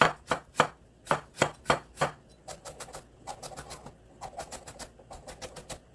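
A knife chops a cucumber on a cutting board for Korean cuttlefish mulhoe, sharp close rhythmic strikes in quick bursts, first loud spaced chops then faster lighter runs of taps, with no talking.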